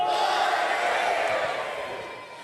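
A church congregation at a youth congress shouts glory to God together, a dense loud sustained crowd roar that fades slightly toward the end.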